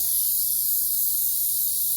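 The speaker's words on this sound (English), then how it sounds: "might as well spray it, get some practice" A steady, even hiss of an airbrush spraying, constant and close, holding at the same level from start to finish.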